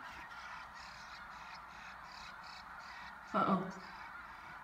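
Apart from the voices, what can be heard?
bird screaming while dangling stuck upside down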